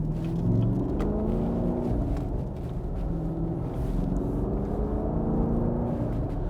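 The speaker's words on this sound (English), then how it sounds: "Plenty of get up and go with this Camaro." A 2016 Chevrolet Camaro SS muscle car with 455 lb-ft of torque pulls hard under acceleration, its deep engine rumble steady and loud throughout with no talking.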